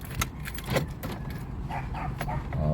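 Keys jangle in a car's ignition as it is switched off on a manual-transmission car during a driving lesson, with faint metallic clinks and rustling over low cabin rumble.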